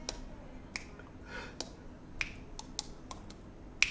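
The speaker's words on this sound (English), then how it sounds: "it sounds like there's a bit of cheek tapping" Cheek tapping into a microphone makes a scatter of sharp, hollow little pops, irregularly spaced and fairly quiet over faint room noise, with no talking.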